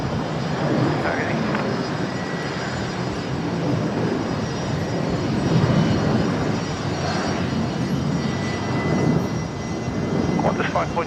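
Qantas airliner jet engines roar steadily at Brisbane Airport, a broad continuous rumble filling the whole stretch with slight swells, with a faint voice underneath.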